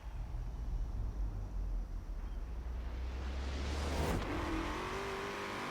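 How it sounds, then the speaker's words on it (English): A Camaro ZL1 accelerates in a Forza Horizon 4 race. A loud, continuous engine roar holds steady, then a rising rev sweeps upward near the end, with no talking. "This car has really quick acceleration."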